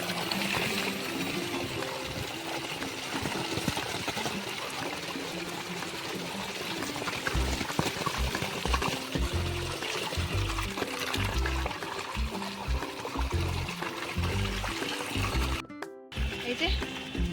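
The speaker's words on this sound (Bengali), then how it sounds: "এই যে জল ভরা হয়ে গেছে" Water pours steadily from a tap or spout as bottles are filled, a continuous splashing wash that runs for most of the stretch, with a voice speaking over it and a brief dropout near the end.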